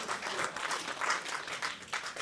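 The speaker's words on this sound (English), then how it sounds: "give him a round of applause again" Applause from an awards ceremony audience at a unity summit, a steady patter of many hands clapping at moderate distance, fairly quiet and continuous for about two seconds.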